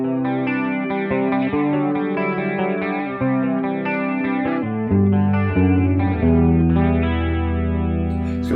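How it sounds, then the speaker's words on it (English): Clean electric guitar played through a chorus effect pedal set to a fairly slow rate with moderate depth, ringing chords and arpeggiated notes shimmering with a gentle wavering quality, played alone. "And if we have a listen to some clean chorusing."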